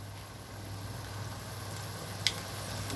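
Spices frying in oil in a pan while cooking a beef tripe curry, a steady soft sizzle with a low constant hum underneath and one brief clink partway through.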